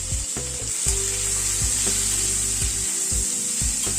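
Vegetables seasoned with salt and turmeric sizzle in a pan with a steady hiss, punctuated by several distinct scrapes and knocks of a spatula stirring, close up and without speech.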